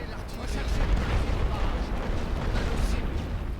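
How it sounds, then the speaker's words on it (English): Light artillery fire in the WWI strategy game The Great War: Western Front rolls as a continuous low rumbling barrage of muffled booms, steady and moderately loud, with a voice faintly present. "I wonder if I can finish these guys off with light artillery"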